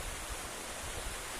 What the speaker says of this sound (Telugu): చాలా అద్భుతంగా ఉంది కదా వాటర్ ఫాల్